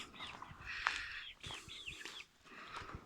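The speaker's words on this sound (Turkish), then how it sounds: "Evet tavuklar." Chickens clucking and chirping in short bursts at moderate distance in a Turkish village square, with scattered farmyard noise and no talking.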